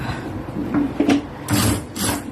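A sewing machine stitching elastic onto a jacket sleeve runs in short mechanical bursts, two longer whirring runs near the end, close and moderately loud with no talk.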